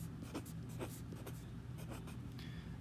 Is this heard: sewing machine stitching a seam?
no